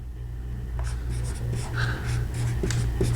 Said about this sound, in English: I'm going to try to write as clear as I can.